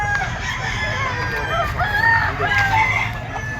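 Chickens, hens and stags crowd a pet market, with a rooster crowing and hens clucking nearby over a steady hum of background chatter.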